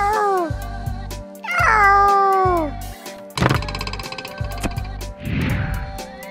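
A cat stuck up a tree meows loudly and repeatedly in a comedy scene, a string of drawn-out, falling cries up close, followed by a few thuds and clinks.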